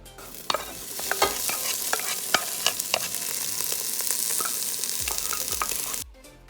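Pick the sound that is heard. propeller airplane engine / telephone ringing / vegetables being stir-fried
vegetables being stir-fried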